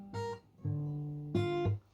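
Plucked guitar notes picked one after another, a short phrase of three clear tones with ringing harmonics, close and alone.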